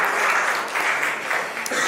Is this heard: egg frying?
no